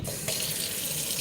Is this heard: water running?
yes